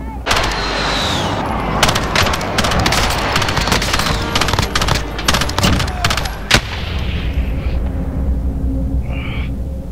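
Call of Duty Warzone gunfire: dense bursts of automatic shots and scattered single cracks, loud and close, running almost the whole time over a busy game soundscape.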